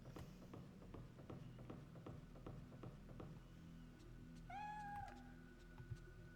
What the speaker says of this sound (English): You heard that, right? That was a cat